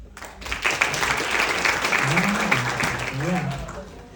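A live stand-up comedy audience in Indonesia bursts into applause, dense and steady clapping with some cheering voices and someone speaking briefly over it toward the end.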